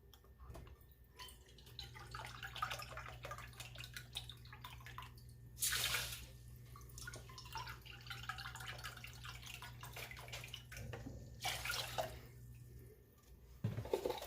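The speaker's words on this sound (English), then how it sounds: "So we're going to use some beef stock. And we're going to use 2 cups." Beef stock, two cups of it, pours into a pot in a soft, steady liquid stream with drips and splashes, quiet and close, ending with a few brief clinks.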